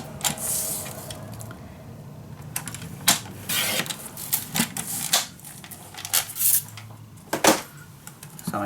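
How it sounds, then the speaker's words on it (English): Scissors cut a sheet of patterned scrapbook paper in two for a handmade mini album, giving a series of close, crisp snips and creaky blade clicks in an uneven rhythm over quiet room tone. "so I'm just going to cut this in two"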